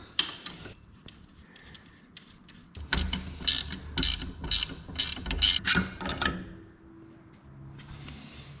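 A hand ratchet clicks in quick repeated bursts as it backs out the bolts holding the floorboard on a Harley Road Glide ST, with a few scattered clicks before and a quieter tail afterward, close up and with no talking.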